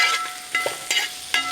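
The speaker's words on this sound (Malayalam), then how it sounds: "നമ്മളപ്പോൾ എണ്ണ കുറച്ച് വറുത്തിങ്ങനെ എടുക്കുവാണ്" Grated ginger and coconut fry in oil in a pan for a Kerala sadya puli inji, giving a close, steady sizzle broken by several sharp scraping stirs of a spoon.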